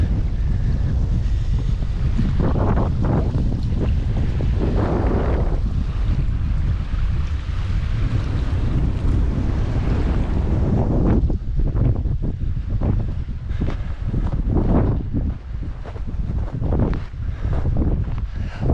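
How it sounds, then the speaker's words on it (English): Strong wind buffets the microphone in heavy, continuous rumbling gusts, loud and close, with louder bursts toward the end, outdoors at an abandoned workers camp. "that's going to be far too windy"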